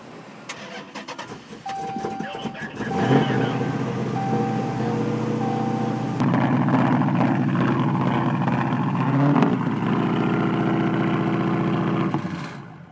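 A Copart project car cranks for a few seconds, then catches and starts, settling into a steady idle that rises slightly in pitch; voices talk nearby over the engine.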